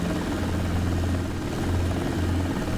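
Simulated helicopter engine and rotor from a desktop flight simulator game, a steady, loud, continuous drone with a low rumbling hum that holds evenly throughout, with no talking.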